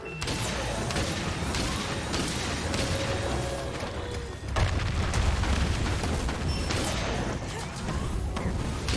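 In the game Monster Hunter Rise: Sunbreak, heavy bowgun explosions boom loudly and continuously over dense in-game noise, with a strong burst near the middle.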